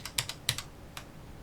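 A few quick keystrokes on a computer keyboard, sharp close clicks in a short irregular burst, then a single later tap, quiet and without voices.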